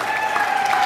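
An audience at the FACE '23 event claps in a dense, steady burst of applause, close and fairly loud for a brief moment.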